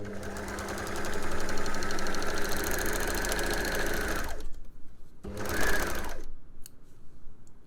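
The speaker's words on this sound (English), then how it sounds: "Overlocked, no stutter at the start." An overlocker serging fabric for a sports bra runs at a steady, loud mechanical whir with fast needle chatter, stops, then makes a second short burst of stitching before falling quiet.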